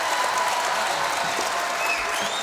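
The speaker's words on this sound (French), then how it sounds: "Applaudissements pour nos amis de Valoris, s'il vous plaît, tout de suite." Steady studio audience applause at a French television variety show, dense and continuous clapping filling the room with a faint whistle-like tone drifting through it.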